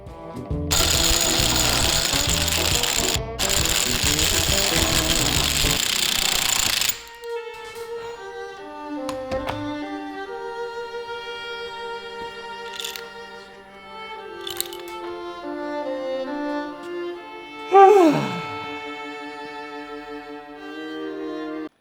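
A bearing puller working a bearing off a differential pinion gear, opening with a loud, harsh grinding burst of several seconds, then quieter clicks, metallic rings and a sharp squeal near the end.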